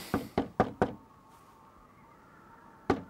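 Four quick knocks on a door in a rapid row, a pause, then a single knock again, fairly close and crisp.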